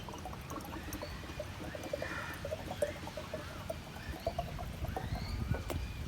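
Chilled water poured into the glass base of a home hookah, a steady close trickling and splashing that runs the whole time with faint bubbly variation.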